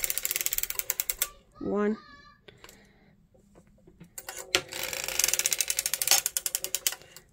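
A hand-cranked circular sock knitting machine with 48 stitches gives rapid ratcheting clicks in bursts, pausing briefly, with a short voice partway through before the close, fast clatter resumes.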